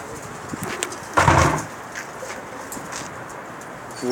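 Pigeons coo in soft repeated calls, with one louder burst of cooing near the middle, fairly close and without talk.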